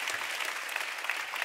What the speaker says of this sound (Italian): Se facciamo un applauso